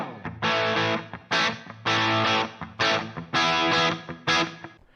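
Distorted electric guitar through a HeadRush small music club reverb preset plays choppy hair metal rhythm chords, five or six sustained bursts separated by short gaps, with a roomy reverb tail.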